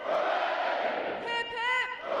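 Graduating sailors at a U.S. Navy boot camp ceremony roar a crowd cheer, a broad massed shout following a single leader's drawn-out call.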